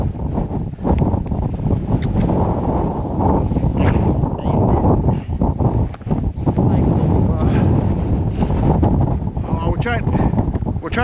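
Strong wind buffets a hillside at night, roaring loud and constant as it batters the microphone, with a voice partly heard beneath the gusts.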